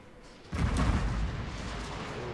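Cannon fire in Total War: Shogun 2 – Fall of the Samurai, a strategy game battle: a single deep boom lands abruptly and leaves a long rumbling roar of battlefield noise behind it.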